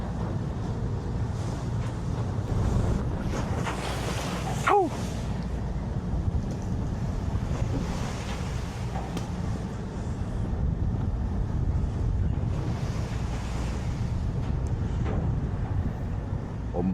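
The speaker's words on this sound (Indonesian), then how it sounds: "Ombaknya malah semakin parah nih. Semakin ke tengah, semakin jadi." Storm-whipped Java Sea waves and strong wind batter a boat far out on whitecapped water, a loud continuous roar of surf and gusts with surges and a brief splash near the middle.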